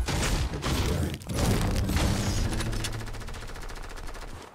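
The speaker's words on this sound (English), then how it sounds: "There's already shots right next to me." Rapid bursts of gunfire from a shooter video game fill the scene, dense and loud, with a brief gap near the start before automatic shots resume in a steady rattling stream that slowly fades.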